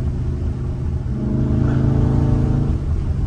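A catless Dodge Scat Pack rumbles loud and close from the cabin, its deep exhaust drone swelling slightly in a sustained rev without a break.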